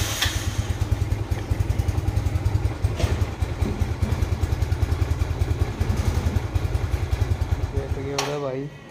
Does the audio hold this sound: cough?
no